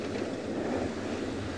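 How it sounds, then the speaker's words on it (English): Strong wind buffeting outdoors during a safari drive, a continuous dense roar of gusts over the microphone, steady and close for the whole short stretch. "Very windy, you can feel."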